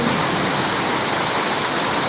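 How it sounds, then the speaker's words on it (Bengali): Rain pours down at Jirani Bazar in a storm with strong wind, a dense, even hiss that stays loud and unbroken throughout. "বৃষ্টি"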